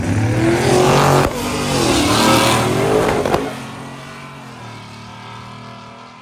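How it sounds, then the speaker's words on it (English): Drag racing truck engine roaring down a pass, loud revving that swells, then a sharp pop and bang before the sound fades off into the distance. "Obviously having some issues, laying over, popping, banging."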